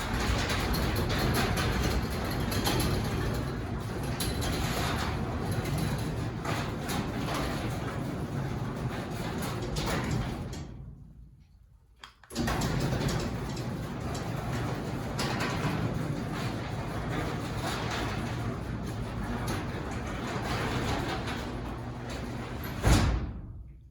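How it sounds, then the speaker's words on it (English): A newly installed Chamberlain B500 garage door opener runs with a steady mechanical drone and rattle for about ten seconds, stops with a clunk, then runs again just as steadily, heard close and without talk. "we're going to do an after video to hear the sound since the new Chamberlain garage door opener is installed"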